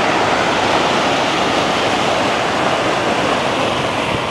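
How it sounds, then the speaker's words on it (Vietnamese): Water rushing without pause out of a residential area in Hanoi after days of heavy rain following Typhoon Yagi, a loud, steady roar with no voices over it. "dòng nước chảy không ngừng các bạn ạ Suốt ngày suốt đêm"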